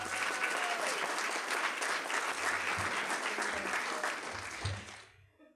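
Warm, sustained applause from an audience honoring inductees at a university induction and recognition event, steady and full for about five seconds before tapering off.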